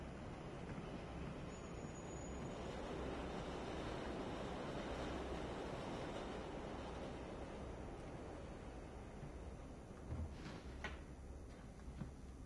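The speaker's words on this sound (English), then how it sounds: "Nate, we're all trapped on the train together." Steady broadband rumble inside a moving train carriage, a continuous low roar filling the space with no voices, plus a couple of faint rattles toward the end.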